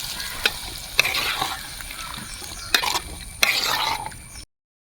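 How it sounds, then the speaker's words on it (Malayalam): Kerala-style Kozhikode kootu curry for Onam is stirred in a pan: close spoon scrapes and a few sharper knocks over a steady sizzle, then sudden silence at the end. "നമ്മൾ നല്ല പോലെ ഒന്ന് ഇളക്കി സെറ്റാക്കാം"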